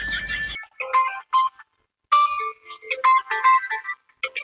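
A phone ringtone plays a bright, repeating electronic melody in short bursts, loud and close, after a brief burst of noise at the start.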